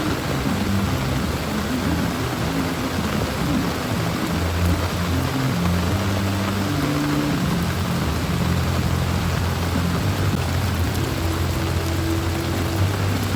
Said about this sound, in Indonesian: kita tidak bisa naik karena memang kondisinya hujan, cuacanya hujan